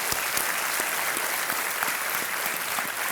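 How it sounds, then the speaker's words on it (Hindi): A studio audience on the KBC Season 9 quiz show applauds to welcome a guest, a steady, dense wash of clapping from many hands throughout, loud and continuous. "विजय सिन्हा जी, प्रणाम करता हूँ आपको और तालियों के साथ आपका स्वागत"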